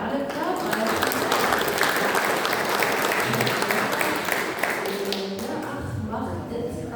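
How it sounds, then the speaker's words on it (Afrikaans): A church congregation claps their hands in a dense, continuous patter of applause, with voices mixed in over it and the clapping thinning toward the end. "miskien vir haar lekker hande klap"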